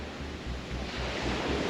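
Ocean waves washing against the Maui shore: steady broadband surf with soft rhythmic low rumbles under light wind noise and no speech.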